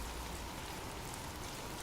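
Steady rain falls in an even, continuous hiss of dense drops, soft and distant, with no breaks or other sounds.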